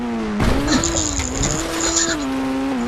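A GTR car in the Indian Bike Racing 3D video game revs with a loud, steady engine drone that rises and dips in pitch, with a high tyre skid squeal laid over it, continuous and close.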